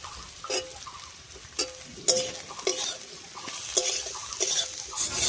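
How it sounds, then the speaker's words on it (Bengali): Onions fried until reddish, with a few garlic cloves added, sizzle steadily in a pan, broken by repeated scraping stirs of a spatula at a close, moderate level. "পেঁয়াজের সঙ্গে রসুনটাও একটু ভেজে নিয়েছি"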